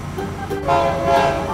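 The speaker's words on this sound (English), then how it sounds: "Red and blue train." A red and blue toy train rumbles along with a sustained horn tone rising midway, close and fairly loud, with no speech over it.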